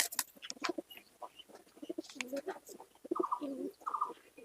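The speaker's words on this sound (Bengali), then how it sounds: "এই দেখুন কি সুন্দর পায়রা।" Andhra pigeons cooing close by, a run of soft, throaty, repeating coos with brief rustles between them.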